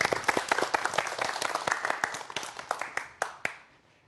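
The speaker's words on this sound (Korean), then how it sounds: "박수 부탁드립니다." An audience claps for a physics professor about to give a lecture on quantum mechanics: dense, loud applause that thins into separate sharp claps and fades out near the end.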